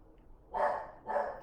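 A dog gives two barks about half a second apart, at moderate loudness and somewhat distant, over a quiet background with no talking.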